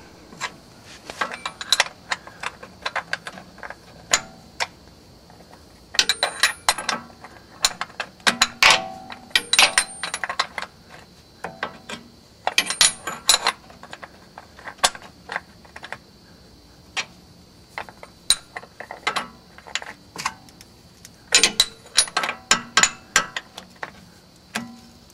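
A 17mm wrench ratchets the oil drain bolt tight on a 1970 Mercedes 280SE, giving close, light, rapid clicks in short runs separated by brief pauses.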